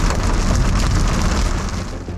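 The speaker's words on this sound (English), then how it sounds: "We're probably taking quarter-size hail right now." Quarter-size hail pounding a storm-chasing vehicle during a supercell tornado outbreak, a dense, loud, continuous clatter and roar of impacts on the roof and body, with no speech.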